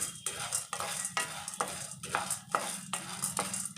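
Lentils frying in oil in a pan for idli podi, with rhythmic scraping stirs about twice a second over a constant close sizzle, no talk.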